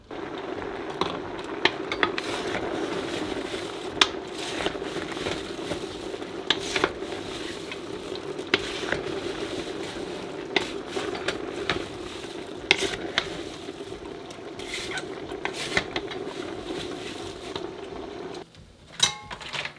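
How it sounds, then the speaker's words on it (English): Homemade sugar-free applesauce warms in a pot, with a steady low bubbling hiss and occasional soft scraping and clinking of a spoon as it is stirred. "So we're just going to warm this up, stirring occasionally."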